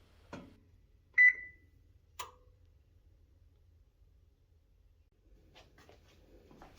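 Electronic oven control panel gives a few short, separate beeps while the baking temperature is set to 300 degrees, quiet and close in an otherwise still kitchen.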